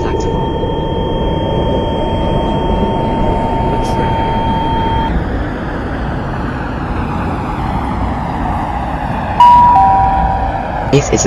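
A Roblox Delta Line train on the Marble Avenue to Brentwood North run pulls out of a station in a video game, with a continuous loud low rumble and hum and a steady tone that cuts off partway, and a brief bump near the end.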